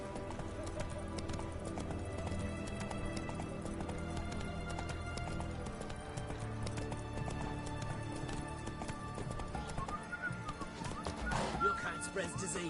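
Roach the horse gallops in The Witcher video game, a rapid steady clip-clop of hooves over a music and ambience bed, with a voice briefly heard.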